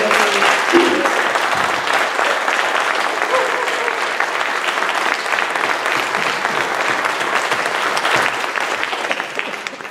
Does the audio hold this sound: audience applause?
yes